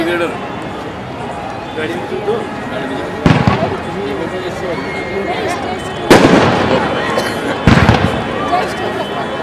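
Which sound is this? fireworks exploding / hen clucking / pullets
fireworks exploding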